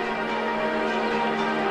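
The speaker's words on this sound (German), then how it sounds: "Die Pfarrer haben das Läuten angeordnet." Church bells ring out along the Danube as Empress Sissi travels to Vienna, a loud, sustained wash of overlapping tones holding steady throughout.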